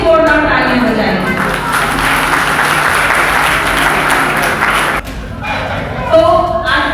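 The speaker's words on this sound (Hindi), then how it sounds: "तो आप सब लोग एक बार अपने अपने लिए जोरदार तालियां बजाएं" Loud, sustained audience applause fills a large public gathering, a dense wash of clapping that runs steadily for about five seconds, then drops away as a voice begins speaking over the fading claps.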